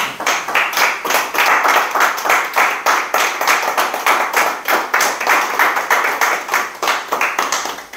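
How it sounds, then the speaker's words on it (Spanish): Close, crisp clapping from an audience after a talk, individual claps clearly separated in a fast, even rhythm, loud and continuous with no voices over it. "Y podemos darle un aplauso, por favor."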